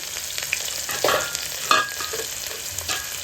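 Two chopped onions fry in a pan while being stirred, a continuous close sizzle with a few louder scraping strokes from the spoon, no voices.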